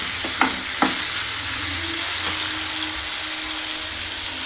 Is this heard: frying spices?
yes